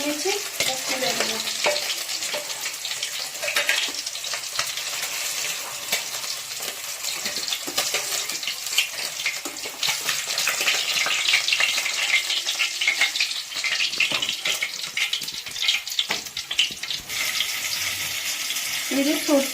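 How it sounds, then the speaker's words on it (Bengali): Hilsa fish pieces sizzle in hot oil for a mustard curry, a continuous close crackling fry with intermittent spatula scrapes and stirring, steady in loudness throughout. "মাছগুলো হালকা করে ভেজে নিয়েছি, তুলে নেব।"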